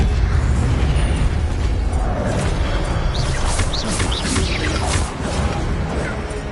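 A fiery Incendio spell cast in Hogwarts Legacy, a dense crackling burst of flame and magical impact noise with whooshing sweeps, loud and continuous, fading slightly toward the end.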